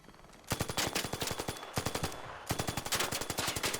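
Rapid automatic gunfire from a video game, aimed at an ARC robot: dense, steady bursts of shots that pause briefly and resume, loud and close, with no talking.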